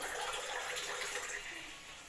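Water pours steadily into a pot of pork adobo cooking with fat, a continuous broadband splashing rush that is close and fairly loud and tapers slightly toward the end.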